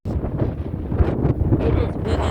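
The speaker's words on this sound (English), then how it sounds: "It is really windy out here" Strong wind during a rainy evening storm outdoors in New York City buffets the microphone with a steady, rough, low roar that keeps going without a break.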